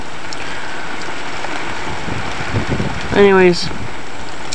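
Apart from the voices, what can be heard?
rain storm with wind gusts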